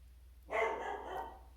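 A single dog's bark or short yelping burst rises out of near silence and trails off over about a second, fairly close and clear, with no voices over it.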